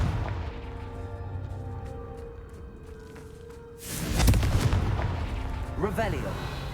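A Confringo blasting spell in Hogwarts Legacy bursts into a loud explosive crack partway through, with a rumbling blast and fizzing aftermath that follow a quieter stretch of game ambience.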